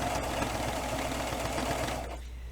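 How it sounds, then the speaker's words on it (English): A sewing machine stitching fabric for a steampunk hat, running in a steady, close, rapid mechanical chatter that cuts off near the end. "I'm going to put my presser foot back down, and then I'm going to go ahead and stitch here"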